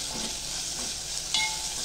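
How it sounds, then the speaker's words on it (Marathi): Ghee tempering for dal sizzling in a pan with tomatoes, a soft continuous hiss with faint stirring scrapes, close and quiet, with one brief metallic clink near the end. "खमंग अशी फोडणी हे चांगली परतवून घ्यायची आपल्याला."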